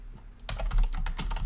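Rapid, close keystrokes on a computer keyboard as code is typed, a brief quiet pause and then a steady burst of clicks with no talking.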